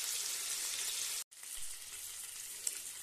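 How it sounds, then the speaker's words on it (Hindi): Chicken pieces frying in a pan for Amritsari chicken: a soft, even sizzle that cuts out for a split second and then resumes, with one small tap near the end. "इसका पीस आप डाल के इसको अच्छी तरह हम भूनेंगे चिकन को"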